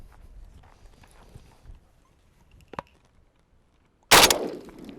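A single sharp AK-47 rifle shot firing a 7.62x39 full metal jacket round, loud and abrupt after quiet handling noises, with a decaying outdoor echo.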